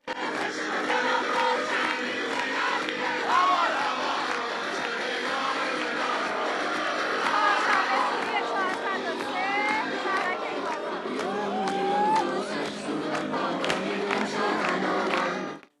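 A large protest crowd fills a Tehran street, a loud continuous roar of many voices with shouting and chanting rising and falling throughout, close and dense with no pauses.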